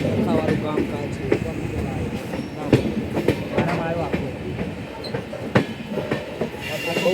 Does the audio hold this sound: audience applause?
no